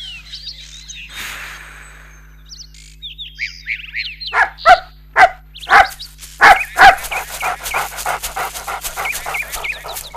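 A dog responds to a high-pitched dog whistle with a run of loud, close barks and pants in a quick, rhythmic series, preceded by faint chirping birds and a brief whoosh.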